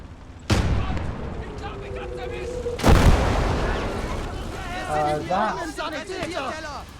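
Incoming artillery fire in the war game Kampfgruppe lands as two sharp, loud booms a couple of seconds apart, each trailing off. Voices talk and chatter throughout, with higher squealing tones near the end.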